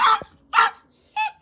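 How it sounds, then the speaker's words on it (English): A dog barks three sharp, close barks spaced about half a second apart, loud and alone with brief silences between them. "Sorry about the barking"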